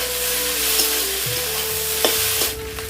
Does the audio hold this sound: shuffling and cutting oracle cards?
no